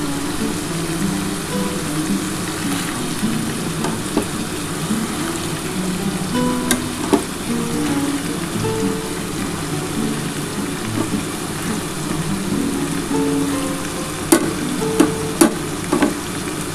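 Chopped onions frying in a pan for chilli chicken, a continuous sizzle with occasional stirring scrapes and clicks from a utensil against the pan.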